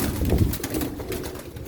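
A red-breasted blue domestic pigeon gives a brief, low, soft coo close by, a single short call with no voices.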